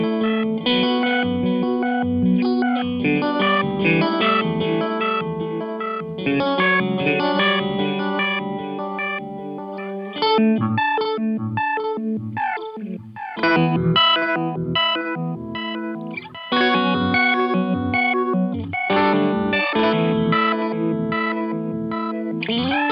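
Guitar run through a Keeley Mesmer Astral Delay pedal with the pitch shifted a fifth up, playing sustained chords and note sequences layered with shimmering echoed harmony, loud and continuous with no talk.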